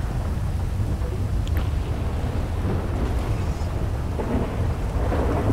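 A video game thunderstorm pours steady, dense rain under a low, continuous rumble of thunder, loud and unbroken, with no voices.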